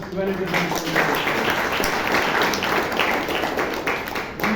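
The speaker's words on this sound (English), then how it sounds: "Can we have a big round of applause to all the speakers" Audience applause for speakers at a Toastmasters meeting in Bangalore, a steady roomful of clapping lasting several seconds, with speech-like voices mixed into the dense patter.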